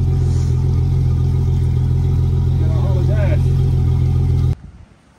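Turbocharged Foxbody Mustang street car with a roll cage, its engine running loud and steady with a deep rumbling drone, then cutting off abruptly near the end.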